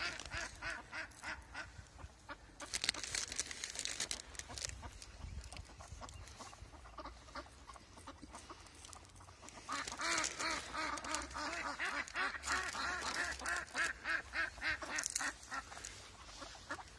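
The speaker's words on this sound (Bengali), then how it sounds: "এই তো শুনতেই পেয়েছেন হাঁসগুলো" Ducks in a park rush in for food, giving off a busy chorus of repeated quacks that rises and falls in bursts, steady and fairly close, with no talking.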